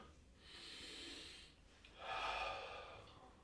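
A person breathes in audibly during a relaxation exercise for the knee, two soft airy inhalations following one another, close and quiet, with no talking.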